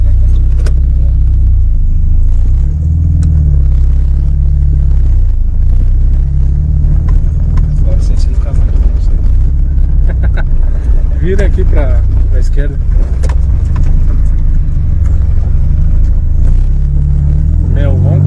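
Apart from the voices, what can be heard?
Volkswagen Golf MK3 engine roar while driving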